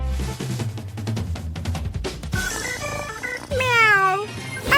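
A cat meows near the end over busy background music in a cartoon cooking challenge, a single drawn-out, wavering cry.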